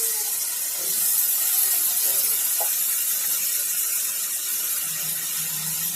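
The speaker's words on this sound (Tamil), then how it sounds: "ஒரு சின்ன லெமன் சைஸ் புளி எடுத்து கரைச்சி வச்சுருக்கோம் அதை ஊற்றிக்கலாம்" Tamarind water pours into a simmering Tenkasi-style okra and brinjal tamarind curry, giving a steady, bright, rushing hiss that holds evenly throughout.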